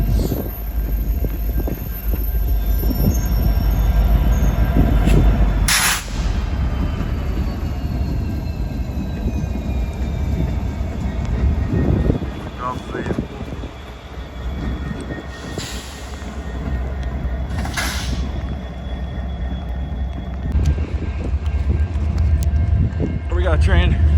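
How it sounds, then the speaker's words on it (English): A freight train rolls past on a rainy day at Rochelle, a long steady rumble of wheels and railcars with squeals and a loud horn blast, continuous and close throughout. "We got a train."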